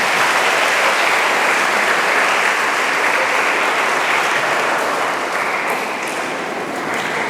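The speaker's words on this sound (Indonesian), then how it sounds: "Mari Bapak Ibu kita berikan aplaus bagi anak-anak kita." Sustained applause from an audience at a church culture festival carnival in Masohi, clapping for the children; dense, steady and fairly loud throughout, easing slightly toward the end.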